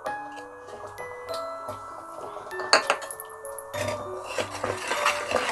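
A spoon stirs cornmeal flour into mustard greens for sarson ka saag, clinking and scraping against the metal pot in irregular taps, fairly close, with no talking.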